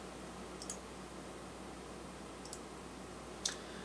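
A computer mouse clicks three times, in short, faint taps spaced irregularly over a quiet hiss.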